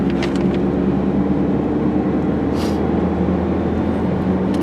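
A 2010 Nissan Sentra SE-R Spec V six-speed sedan is driven on the road, its engine holding a steady, loud droning hum with strong low tones and constant road noise.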